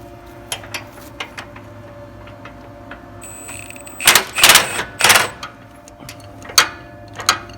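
Milwaukee impact wrench on long extensions, straining against stuck bolts on a trash mulcher disk chisel: a few loud, short hammering bursts in the middle, another near the end, with small clicks in between.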